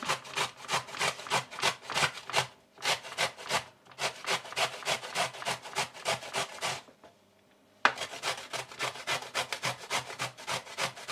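Whole rutabaga being grated by hand in a kitchen, quick rhythmic scraping strokes in close bursts, a brief pause midway, then the steady grating resumes.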